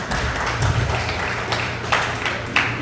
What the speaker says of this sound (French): ça vaut vraiment beaucoup de mains d'applaudissements de votre part